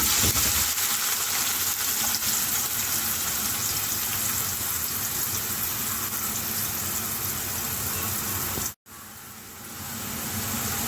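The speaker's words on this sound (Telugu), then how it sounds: "ఇప్పుడు ఉల్లిపాయ ముక్కలు వేస్తున్నాను" Chopped onion pieces hiss and sizzle steadily in a hot pan for mutton keema curry, a loud dense crackle that runs without a break, briefly cuts out near the end, then resumes.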